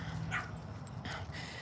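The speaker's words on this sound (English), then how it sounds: "Shane, that little dog ain't gonna get you" A little dog yaps two or three quick barks at moderate distance, over a low background hum.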